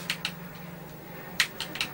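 Keys on an old BBC Micro computer keyboard pressed hard, several close, sharp clacks in two small groups separated by a short pause, with no talking.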